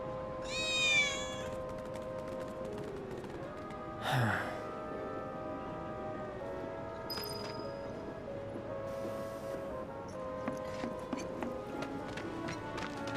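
Game cat in Final Fantasy VII Remake gives a clear, close meow near the start, and a second short cry follows a few seconds later, over steady ambient game music and background hum.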